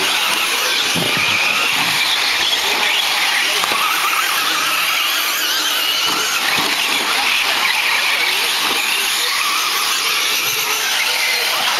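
Radio-controlled 4WD short course cars racing in an A-main final, with high-pitched electric motor whine and tyre squeal rising and falling continuously as several cars pass, a steady racing din throughout.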